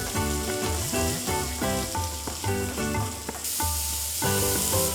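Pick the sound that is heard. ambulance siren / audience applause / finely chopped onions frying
finely chopped onions frying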